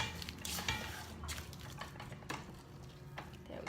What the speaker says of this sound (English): I'm gonna scrape it down a little bit because the egg's not really getting incorporated.